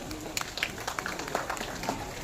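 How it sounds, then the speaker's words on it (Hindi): Scattered, uneven clapping from a crowd at a school victory celebration and flag unveiling greets guest Dr. Vikas Badsara. The claps are sharp and close and stay fairly sparse for a couple of seconds. "जोरदार तालियां"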